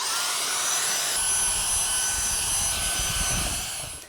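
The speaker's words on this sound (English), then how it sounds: "Next, you can vacuum the area thoroughly." A vacuum cleaner runs steadily and loudly close by while cleaning the fridge condenser area, giving a continuous broadband whoosh with a high whine that tapers off at the end.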